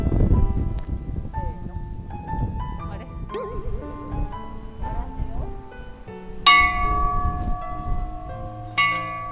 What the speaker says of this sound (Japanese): 誓いの鐘